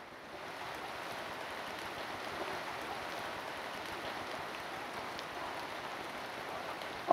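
Steady rain falls in an even, hissing wash that stays constant throughout, with no voices and no distinct drops standing out.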